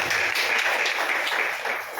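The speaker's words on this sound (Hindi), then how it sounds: "ताली बजाओ।" A church congregation clapping hands together in a steady rhythmic beat, loud and close, filling the room with repeated sharp claps.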